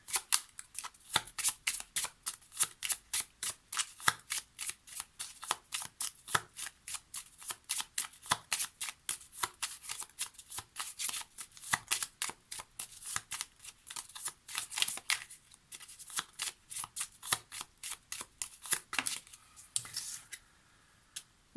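Lenormand cards shuffled for a divination reading, a long run of quick crisp riffling flicks in a steady close rhythm, fairly soft, with no talking.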